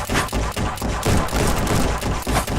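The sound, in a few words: gunfire from the VR game Guns'n'Stories: Bulletproof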